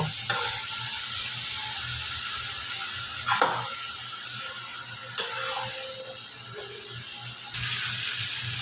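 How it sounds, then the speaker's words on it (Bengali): Chicken pieces stirred in a pan over a high flame to dry off their water give a steady soft sizzle and hiss, with a few sharp utensil clinks against the pan. "চিকেনটাকে একটু নাড়াচাড়া করে চিকেনের জলটা আমি পুরোটাই শুকিয়ে নেব"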